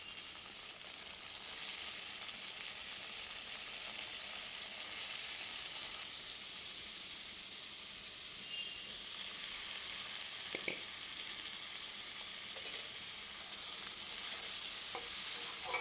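Potato, pumpkin, eggplant and green chilli frying in hot oil with bay leaf, a steady bright sizzle that runs unbroken throughout, with a few faint stirring clicks and scrapes, close by and with no voices.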